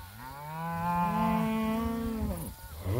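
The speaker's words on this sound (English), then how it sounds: "Just a whole line of cattle." A single long, drawn-out moo from cattle in a grazing paddock, close and clear, rising and holding for about two seconds before trailing off.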